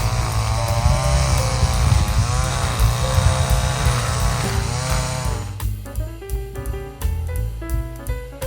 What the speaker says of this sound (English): Weed whacking for the next month.